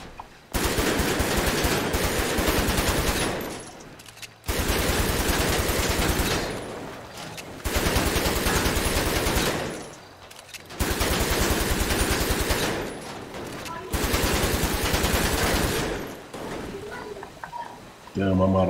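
Automatic gunfire in a GTA FiveM roleplay game, long rapid bursts of repeated shots separated by brief gaps, loud and dense, with voices talking at points.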